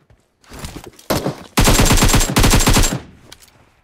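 Automatic gunfire from a hip spray in the PUBG Mobile video game: loud, close rapid bursts, a short volley first, then a long sustained stream of shots that cuts off and leaves faint trailing sounds.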